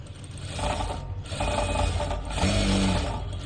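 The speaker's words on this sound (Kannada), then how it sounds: "ಈ ಥರ ನೀಟಾಗಿ ಹೊಲ್ಕೊಂಬಿಡಿ ಸ್ಟಿಚ್ ಹಾಕೊಂಬಿಡಿ ಮತ್ತೆ ಇನ್ನೊಂದ್ಸಲ ಸ್ಟಿಚ್ ಹಾಕ್ಕೊಳ್ಳಿ" A sewing machine stitching a side seam on a garment runs in a steady, close mechanical whir with a rapid needle chatter, pausing briefly twice before starting again.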